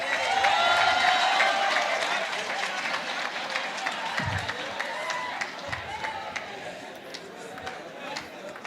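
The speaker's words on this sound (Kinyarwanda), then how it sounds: "Amashyi cyane kuri Richard, ladies and gentlemen." A studio audience applauds a returning guest named Richard on a talk show, dense clapping and crowd noise swelling loudly at first then easing into a steadier patter, with voices mingling underneath.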